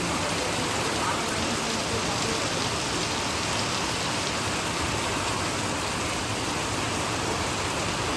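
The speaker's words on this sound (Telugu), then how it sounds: "వాన పడుతుంది" Heavy rain pours down steadily in a dense, unbroken roar of drops on surfaces, loud and close for the whole stretch, with no voices over it.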